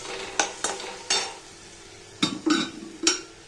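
Chilli and turmeric spices are stirred and sautéed in a pan for an egg curry, with a sequence of distinct scraping spoon strokes in two groups over a soft background sizzle.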